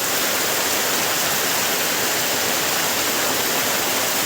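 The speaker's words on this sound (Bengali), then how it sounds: "এখন হঠাৎ করেই জবরদস্ত একটা বৃষ্টি চলছে।" Sudden heavy rain pouring down outdoors, a dense, loud, unbroken broadband roar with no gaps or voices.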